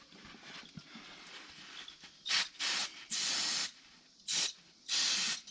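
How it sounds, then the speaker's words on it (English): Carburetor brake cleaner is sprayed onto the joints of a Kubota B7100 tractor in short, close hissing bursts, about five spurts of varying length separated by brief pauses. "Carburetor brake cleaner."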